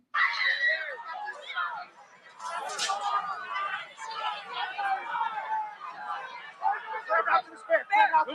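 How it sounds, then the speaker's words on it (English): A crowd at an outdoor political rally in Butler, Pennsylvania, after gunfire shows mixed chatter and shouting with a loud scream rising from the commotion, voices overlapping throughout. "then we hear somebody screaming real loudly"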